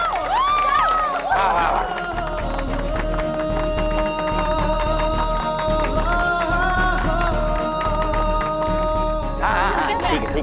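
Guests clap and cheer as a bride and groom arrive at a sangeet celebration, with scattered clapping and excited voices over steady background music and some chatter.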